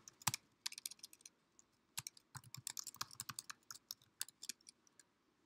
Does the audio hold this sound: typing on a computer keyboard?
yes